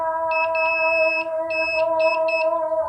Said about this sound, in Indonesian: buzzernya ini nggak akan mengalami kerusakan karena ditahan dengan dioda ya